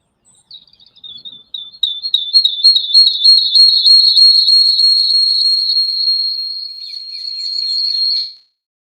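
A person whistles a wavering, warbling tune alone, starting with short chirps and then holding a steady, fairly loud note for several seconds before stopping abruptly.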